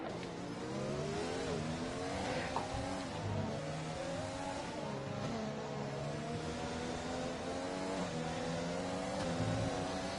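Formula 1 race car engines in a racing video game, a steady close whine of several cars revving and shifting gears up and down throughout, with no talking.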